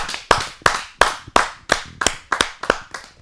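Slow, rhythmic clapping at a Hindi poetry gathering welcomes a poet to the stage, about nine loud, evenly spaced claps that ring out with short decays between them.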